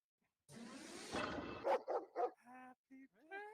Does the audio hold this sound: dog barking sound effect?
yes